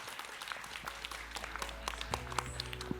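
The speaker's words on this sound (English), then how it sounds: "So maybe a round of applause." A modest round of applause from attendees at a healthcare careers conference panel, scattered individual claps over a low steady hum, with a few sharper hand strikes standing out.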